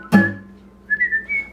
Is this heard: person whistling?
yes